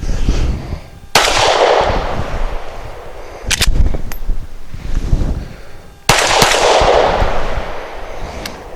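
Canik TP9 Elite pistol firing 100-grain frangible rounds, with sharp, loud shots at about 1.1, 3.6 and 6.1 seconds, each followed by a long echoing decay.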